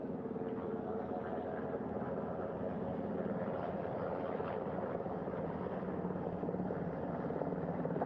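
A helicopter hovers close by over a ship's flight deck before landing, its steady rotor and engine drone loud and continuous throughout with no voices.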